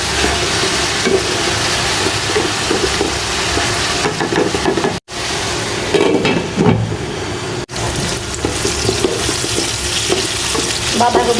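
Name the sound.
cabbage being stir-fried in a pan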